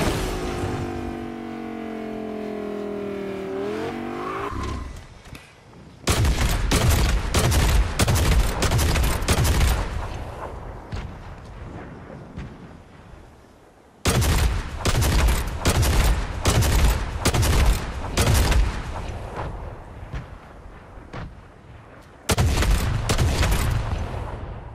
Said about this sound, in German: Von wo haben die denn jetzt hier geschossen?